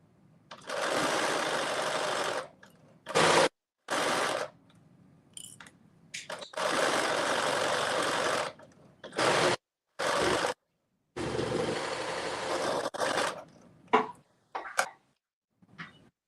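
A sewing machine runs a very short stitch through fabric for a Simplicity 5628 caftan, humming loudly and close in several long runs broken by brief pauses, then a few quick short bursts at the end, with no voices.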